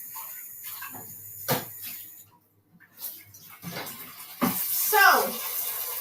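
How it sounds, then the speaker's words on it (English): Water is poured into an electric skillet during a pigeon peas curry cook, with a few sharp knocks and clatters and then a short bright splash near the end. "So I'm just going to add some little water on this one."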